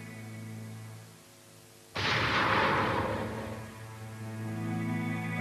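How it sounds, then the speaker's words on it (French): A single gunshot fired from across the street toward a motel balcony: one sudden, loud blast with a hissing, reverberant tail that fades over about two seconds, set against soft background music. "Un coup de feu avait été tiré de l'autre côté de la rue."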